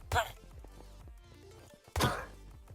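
A villager in the video game Minecraft lands two blunt thunking hits about two seconds apart, with quieter game sounds in between.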